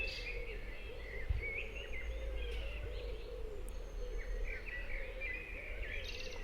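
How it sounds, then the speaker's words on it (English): A bird sings flute-like whistled phrases on a nature walk. The repeated clear notes sound moderately distant over a steady outdoor hum, with no voices. "Listen to that bird. It sounds almost flute-like."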